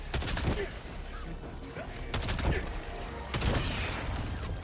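Rapid gunfire bursts from the video game Helldivers, several loud clustered volleys of shots with brief gaps, with mechanical clatter and a voice talking over the action.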